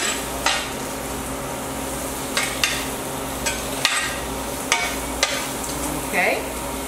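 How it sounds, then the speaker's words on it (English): Food frying in a pan on a cooktop is stirred steadily, with a constant sizzle underneath and occasional sharp scrapes and clinks of the utensil against the pan. "Keep stirring, keep stirring."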